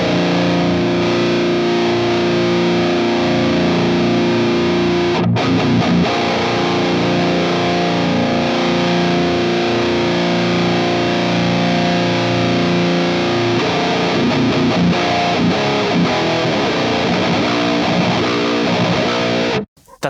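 A heavily distorted metalcore guitar tone from a Fractal FM3 plays continuously and loudly for about twenty seconds, thick chugging chords and sustained notes with a brief break near the start and an abrupt stop at the end.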